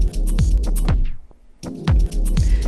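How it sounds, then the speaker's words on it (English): Beat-driven music on a Pioneer DDJ-1000 DJ controller slows and sinks in pitch with a turntable break pad effect, dropping briefly into near silence before the track snaps back in at full level. "and then sort of a turntable break."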